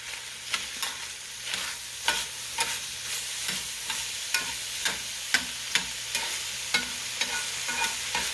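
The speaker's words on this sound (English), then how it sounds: "So I'm going to go ahead and add this onion to the sausage in the pan. And we'll stir that up." Onion and sausage fry in a pan with a steady sizzle, while a utensil stirs and scrapes them in regular, sharp knocks about every half second, close and moderately loud.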